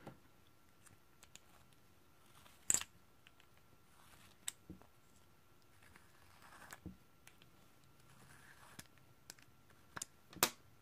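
Batteries clicking into a series box mod, both set positive side up, make sparse, faint clicks and light plastic taps in a quiet room, with a couple of sharper snaps standing out.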